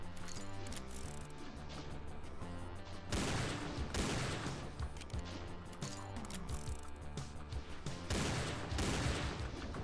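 Enemies firing guns in Doom 2, a steady barrage of overlapping shots and blasts over a dense game soundtrack, continuous and loud for the whole stretch.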